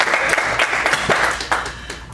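Audience at a talk breaks into applause, a loud steady stretch of overlapping claps lasting about two seconds and easing slightly toward the end.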